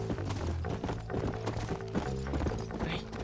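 Hoofbeats of a horse in the video game Red Dead Redemption, a continuous galloping clip-clop at a steady pace, close and prominent over a low game soundscape, no voices.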